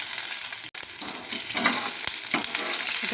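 Sliced medium-size onion frying in hot oil, a steady close sizzle with crackles and a couple of stirring scrapes, no talking.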